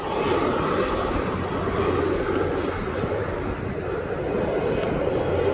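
Beechcraft 200 twin-turboprop at East Midlands Airport, a continuous loud engine drone with a steady broadband roar close by throughout.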